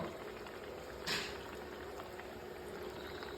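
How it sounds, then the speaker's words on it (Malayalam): Soft, steady bubbling of a squid curry simmering in a pot, with one brief louder burst partway through. "കൂന്തൽ നല്ലോണം തിളയ്ക്കുന്നുണ്ട് കേട്ടോ"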